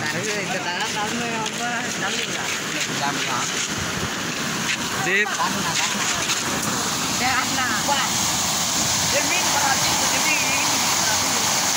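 A steady, broad roar of water rushing over the Vandavasi dam fills the scene, loud and continuous, with people talking over it.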